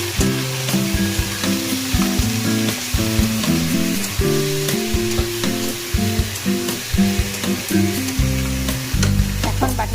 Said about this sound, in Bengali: আলুগুলো দিয়ে দিলাম।